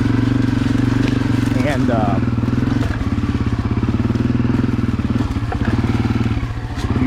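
A Honda CRF250F dirt bike ridden on a fall trail, its engine a loud, continuous low throbbing drone with rhythmic pulses and occasional rattles, a voice talking over it throughout.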